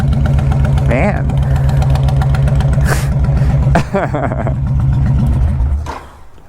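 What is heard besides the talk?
Honda Fury motorcycle engine revving on throttle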